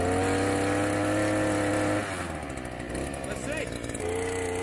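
A Harbor Freight Predator gas earth auger engine runs close and loud with a steady drone, dips in pitch and level midway, then climbs back up near the end.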